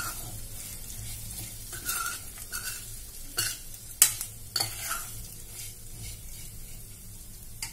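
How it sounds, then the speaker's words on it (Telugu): Flattened rice (poha) and nuts fry in ghee with a soft, steady sizzle, broken by a few spoon scrapes and taps against the pan. The sound is close but fairly quiet, and no one talks. "ఈ నట్స్ వేసిన దాంట్లోనే అటుకులు కూడా వేసి ఈ నెయ్యిలో దోరగా అటుకులను కూడా వేయించుకోవాలన్నమాట"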